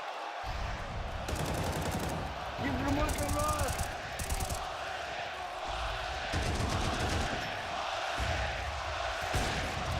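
Rapid bursts of gunfire from a Counter-Strike 2 overtime match between Vitality and Falcons at a packed arena, crackling repeatedly over a roaring crowd and excited commentary.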